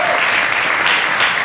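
A live comedy audience claps loudly and densely in a brief, continuous burst of applause.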